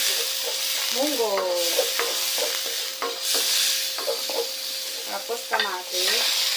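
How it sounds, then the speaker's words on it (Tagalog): Onions sauté in a pan for pork mung bean stew, a steady hissing sizzle with short stirring scrapes and small clatters, while a faint tonal whine rises and falls underneath. "Tapos sutake na rin natin yung sibuyas."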